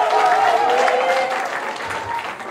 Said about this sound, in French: On va applaudir Marie-Élise Niaoré qui est marraine de notre